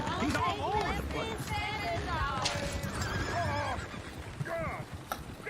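Horses in Red Dead Redemption 2 neigh and whinny repeatedly with clip-clopping hooves, the calls rising over a busy, dense game soundscape with a voice mixed in.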